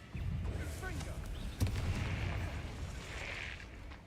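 Incendio fire spell cast in Hogwarts Legacy, a sharp fiery burst that flares about halfway through over a constant rumbling game soundscape, with a faint voice in the background.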